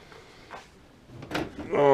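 A workshop drawer slides open with a short scraping rumble, near and moderately loud, ending in a rattling clatter of contents such as files and punches; brief talk may sit around it.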